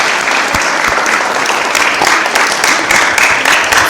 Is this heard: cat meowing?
no